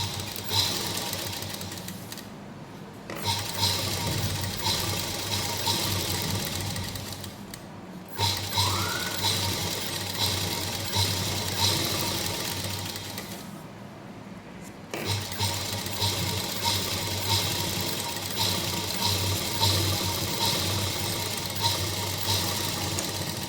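A sewing machine stitches the side seam of a salwar hem band, a steady close mechanical whir running in long stretches separated by a few short stops.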